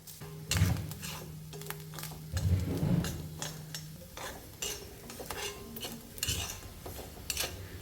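Coconut, garlic, shallots, fennel and curry leaves roasting in coconut oil in a clay pan, with a spatula scraping and clinking against the pan in repeated bursts and a faint sizzle underneath; no one speaks.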